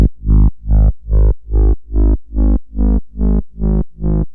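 Detuned two-oscillator synth bass run through a filter with stereo widening, ten evenly spaced thick, buzzy notes swelling and cutting off in a steady pulsing rhythm, loud and alone.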